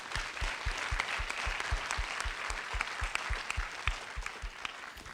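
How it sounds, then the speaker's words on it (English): An audience claps steadily throughout a live show in Los Angeles, a dense wash of hands joined by regular low thumps, with no voices over it. "Let's give them a round of applause"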